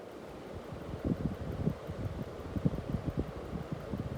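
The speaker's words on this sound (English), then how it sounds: "so we can switch the fan on" A 45-watt ceiling fan runs on high speed indoors, giving a steady low whooshing drone with faint rhythmic thumps of moving air, moderately quiet and alone.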